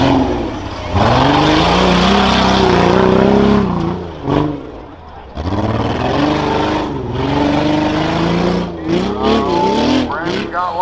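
A 2004 Honda Pilot with all-wheel drive races in a rough truck stock class event at the Hartford Fair, its engine roaring loud and close with repeated revs and surges, under an announcer's running commentary.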